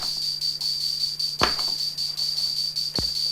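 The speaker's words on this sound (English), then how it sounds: "you can hear the beat of the tambourine" A Roland CR-78 drum machine ticks out a steady, rapid tambourine pulse, with two deep bass drum thumps landing about one and a half seconds apart under a faint constant hum, mechanical and even, with no talking.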